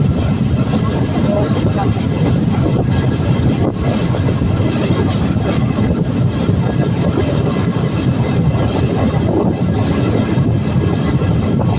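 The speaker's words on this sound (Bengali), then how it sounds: "আমাদের নকশিকাঁথা কমিউটার ট্রেন এই মুহূর্তে মাদারীপুরের শিবচর রেল স্টেশনে প্রবেশ করলো" The Nakshikatha commuter train rolls into Shibchar railway station in Madaripur, with a loud, continuous rumble and rattle of wheels and carriages close by, buffeted by wind noise on the microphone.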